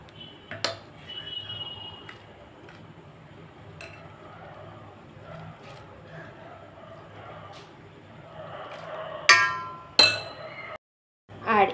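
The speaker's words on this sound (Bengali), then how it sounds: "এই যে সাবুগুলোকে দিয়ে দিতে হবে চামচে করে" A spoon adds sago to milk boiling in a pot over a lowered gas flame, making a few sharp, quiet metallic clinks spaced apart, with faint speech in the background.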